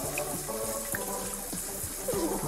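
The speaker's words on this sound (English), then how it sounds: "Yes, have a shower." A shower runs in the video game The Sims 4, giving a steady hiss of spraying water with faint splashes and soft knocks underneath, moderately loud and continuous.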